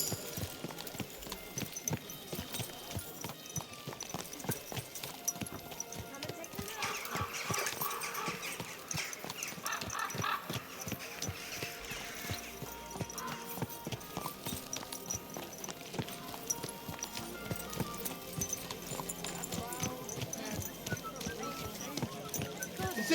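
Horse hooves clip-clop in a steady rhythm during riding in the medieval video game Kingdom Come: Deliverance II, close and continuous under game music and occasional speech.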